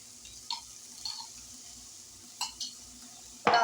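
Vegetables with minced garlic sauté in a pan: a faint sizzle under several spaced scrapes and clinks of a stirring utensil, ending in a louder clatter.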